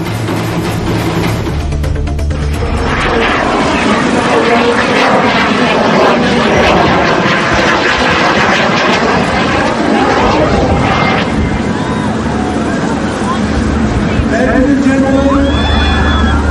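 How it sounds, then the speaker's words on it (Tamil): An aircraft flies at an air show in South Africa, its loud, continuous engine roar sustained throughout, with crowd murmur and babble faintly beneath. "தென்னாப்பிரிக்காவில் சாகச நிகழ்ச்சியின் போது விமானம் கீழே விழுந்து நொறுங்கிய அதிர்ச்சி காட்சிதான் இது"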